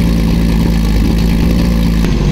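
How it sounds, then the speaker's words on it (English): A Lamborghini Murcielago's engine idles steadily and close by in a continuous low rumble, with a slight change in tone near the end and no voices. "It almost sounded like it was learning. And the idle got better as time went on."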